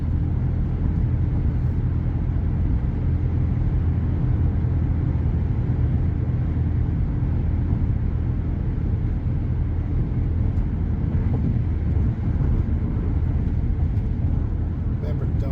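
A car drives steadily on the road during a road-test practice session, its engine and tyre noise forming a constant low rumble inside the cabin, with an instructor talking over it at times.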